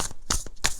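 A pile of tarot cards being shuffled by hand: three quick, papery riffling bursts in close succession, soft and near.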